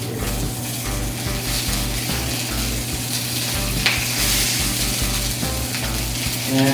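Sausages sizzle steadily in a frying pan, a close, continuous crackle with clicking, scraping knocks as the pieces are flipped and moved around.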